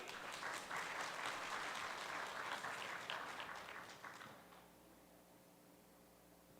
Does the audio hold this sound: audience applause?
yes